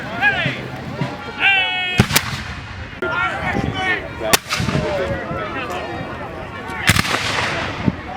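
Civil War reenactment guns from the 69th New York State Volunteers fire as several sharp, loud cracks spaced a couple of seconds apart, with people talking continuously around them in an outdoor crowd.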